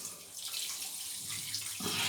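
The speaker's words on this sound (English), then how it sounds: "Squeeze the brush out and rinse that out" Water running from a tap as a shaving brush is rinsed under it, a brief, soft, close splashing stream.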